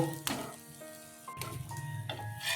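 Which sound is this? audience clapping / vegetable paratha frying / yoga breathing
vegetable paratha frying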